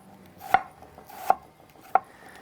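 Three crisp, evenly spaced knife chops through a red onion on a cutting board, cutting thin slices, close and clear against a quiet background with no talking.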